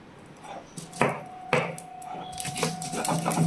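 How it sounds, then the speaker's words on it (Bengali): Spices, chillies and mustard seeds with salt being ground by hand on a shil-nora grinding stone, with a few hard knocks of stone on stone followed by rough rubbing scrapes, close and fairly loud. "এটাকে এখন বাটবো, শিলনোড়াতেই বাটবো।"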